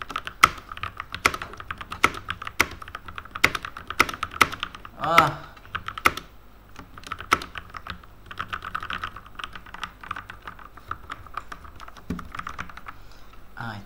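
Rapid keystrokes on a modded mechanical keyboard, close and crisp, with clacky bursts and pauses in an irregular typing rhythm; a brief voice interjection is heard once.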